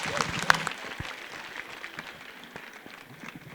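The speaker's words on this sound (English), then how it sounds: "Please give them a huge round of applause" Audience at a school Grandparents Day event applauding standard 1 and 3 students, fairly quiet, scattered clapping with a sharp clap standing out early, tapering gradually.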